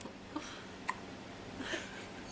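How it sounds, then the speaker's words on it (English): Baby hiccups, deep and soft, three short isolated hics spaced about half a second apart, close but faint against a quiet room. "Like they're deep hiccups."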